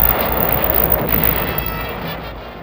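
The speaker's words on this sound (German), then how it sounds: "Schwere Artillerie" Heavy artillery fire on the Rhine front in 1944 archive footage rolls as a loud, dense rumbling barrage that slowly fades over a few seconds.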